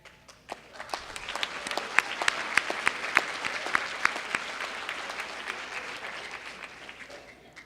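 An audience claps for about 60 graduates in caps and gowns at a 2014 graduation ceremony, the applause swelling quickly to a sustained roar of many hands and then fading toward the end.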